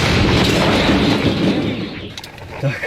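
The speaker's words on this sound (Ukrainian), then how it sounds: "Гармата! Постріл!" The tail of a Ukrainian artillery gun firing, a loud broad roar that rolls away and fades, followed by faint rustling and movement.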